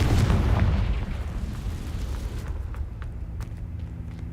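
Confringo blasting curse in Hogwarts Legacy: a heavy booming explosion that erupts at once and rumbles down over several seconds, loud and close, with scattered debris crackles in the tail.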